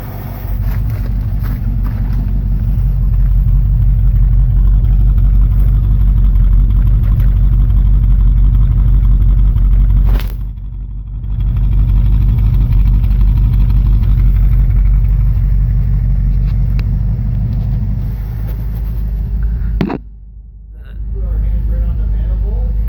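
A 1968 Mustang engine that sat for 30 years idles loud and steady after its first start, with two brief dips in the rumble and voices talking nearby.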